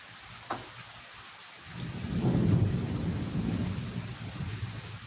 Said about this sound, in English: But that rain is so relaxing.